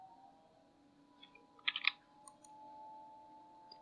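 A computer mouse gives a quick cluster of soft clicks near the middle, with a couple of fainter clicks after, over a quiet room hum.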